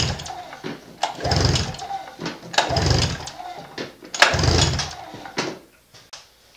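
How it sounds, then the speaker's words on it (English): Recoil starter of a cold SXR Trippple engine pulled about four times with the choke on and the throttle closed, giving rough whirring bursts that rise and fall in turn. "Now we're going to put the choke on, and we're going to pull over 5 times with the throttle closed"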